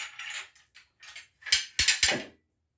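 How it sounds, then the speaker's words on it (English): A clamp is ratcheted tight onto freshly glued legs of a wooden tiered garden planter, giving a series of short mechanical clicks and a few sharp, louder ratcheting snaps close by. "I can clamp the legs down"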